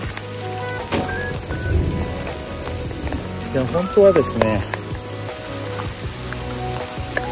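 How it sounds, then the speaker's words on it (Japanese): Heavy rain pours steadily during a summer forest campsite teardown in a thunderstorm, a dense hiss of drops on surfaces running throughout while someone speaks over it. "いや、すごい雨。"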